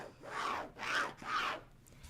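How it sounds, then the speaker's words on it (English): A marker drawn corner to corner across the wrong side of a fabric square, heard as three close, even scratchy strokes in a row, each rising and fading, with no talking. "I'm going to draw a line from corner to corner."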